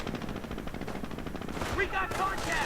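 Gunfire in a World War II real-time strategy battle as riflemen charging ahead are shot down, a dense continuous crackle of rifle and machine-gun fire beneath steady commentary.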